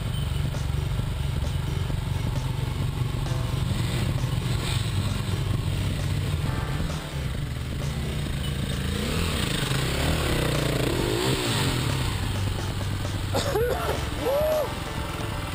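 Suzuki DR650 and KTM enduro motorcycles churn through deep mud on a sloppy adventure trail, engines droning steadily throughout with clattering and revving, plus a brief whine toward the end.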